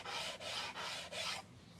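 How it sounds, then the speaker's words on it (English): Hand sanding a wooden guitar body with a flat-faced block: three steady, close rasping strokes of even length, each separated by a brief pause, then quieter scraping at the end. "We'll see what happens after sanding."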